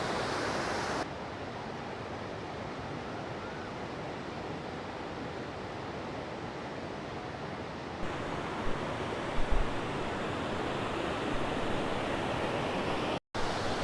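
The Bhedaghat waterfall on the Narmada river roars as a loud, steady broadband rush of falling water, unbroken for the whole stretch.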